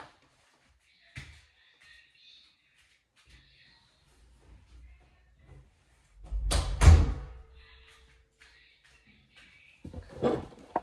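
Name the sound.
bedroom door being closed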